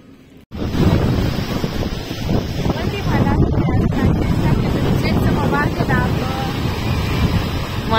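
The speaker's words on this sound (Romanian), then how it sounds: "Doar că bate vântul foarte, foarte rău" Strong wind buffets the microphone beside a rough, agitated sea at Sunny Beach, a loud continuous roar with surf washing underneath.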